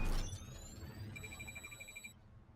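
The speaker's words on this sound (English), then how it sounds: "There's a blinding flare of light and the sound of an alarm." A synthetic alarm rings in the video game Girls Frontline 2, steady rising electronic tones with a pulsing beep toward the end, mixed over a low rumble from an exploding machine.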